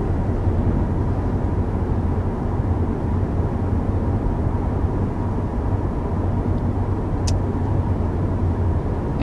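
Steady broadband road and tire rumble fills the cabin of a 2023 Honda Accord cruising at 50 mph, constant and even throughout, with no talking.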